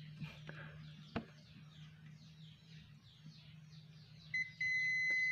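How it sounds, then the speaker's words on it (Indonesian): A Zoyi ZT-102A multimeter buzzer sounds on a shorted diode: a faint tap, then a short high electronic beep that turns into a steady tone at the end, quiet and close over a low hum. "Ya, buzzer bunyi"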